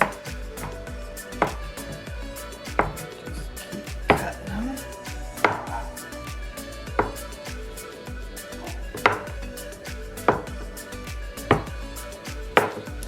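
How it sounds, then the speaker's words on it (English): A knife cuts cheese cracker dough into quarter-inch slices on a board, giving evenly spaced sharp chops about every second and a half, close and clear, with no talking. "So now we're going to cut them in like 1/4 inch slices."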